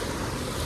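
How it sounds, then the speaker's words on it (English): Ocean waves washing onto a clear-water island beach in Japan, a steady broadband surf roar with some wind noise, continuous and fairly loud with no voices. "Dude, look at this beach."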